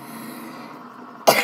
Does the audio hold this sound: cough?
yes